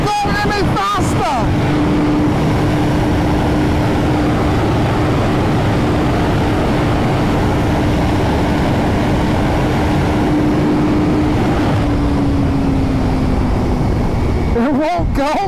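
A 2023 BMW M 1000 RR motorcycle engine holds steady at its rev limit as a constant loud drone under heavy wind rush, with a slight pitch drop near the end.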